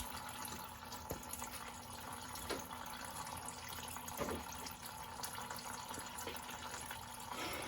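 Coolant drains out of the radiator of a 1998 Toyota 4Runner in a steady, quiet trickling stream with occasional faint drips and clinks, continuous and without speech.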